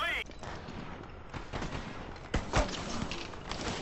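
Gunfire in Call of Duty Modern Warfare Remastered, with scattered shots and a couple of sharper bursts standing out over a busy in-game background.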